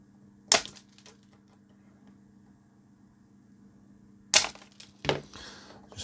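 Snippers cutting the metal legs of LED components on a bench, two sharp isolated snips several seconds apart, the second followed by a quick extra click, over a faint steady hum.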